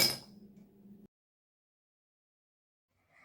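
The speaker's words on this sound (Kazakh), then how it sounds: "Лимонад құятын ыдысымызға мұзды саламыз." Ice cubes drop into a lemonade jug with a bright, brief clink and short rattle lasting about a second, followed by silence.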